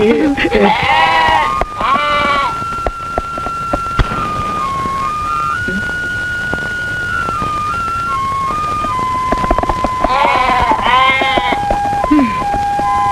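A goat bleats in quavering bursts near the start and again toward the end, set in an old Indonesian film with music tones and rain-like noise running underneath.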